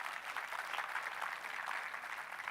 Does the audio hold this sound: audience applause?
yes